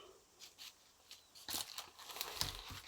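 A plastic Ziploc bag crinkles and rustles close by at low volume, a few soft crackles at first, then denser, sharper crinkling as it is handled, with no speech.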